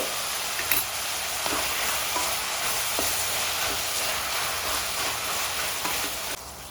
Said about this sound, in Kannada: ಈರುಳ್ಳಿ ಟೊಮೆಟೊ ಎಲ್ಲ ಚೆನ್ನಾಗಿ ಫ್ರೈ ಆಗಿದೆ ಎಣ್ಣೆಲಿ